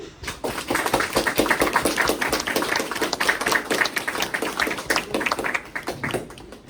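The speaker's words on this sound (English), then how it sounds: "Let's give them a round of applause." Sustained applause from the audience at a US Air Force mental health technician school graduation ceremony for standing instructors and support staff, a dense, steady wash of many hands clapping that fades slightly at the end.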